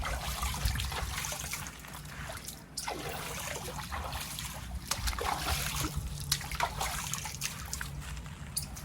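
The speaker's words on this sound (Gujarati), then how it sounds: "આપણે કોથમીર ધોઈ નાખશું" Coriander leaves being washed under running water outdoors, a continuous trickle and splash with irregular sloshing throughout, fairly faint and with no voices.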